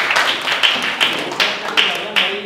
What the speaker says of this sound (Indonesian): tepuk tangan dulu buat Mbak Khalida